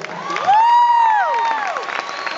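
A concert crowd at a show at The Fillmore, Miami Beach, cheers and applauds loudly, and one long, high, held shout rises above the noise.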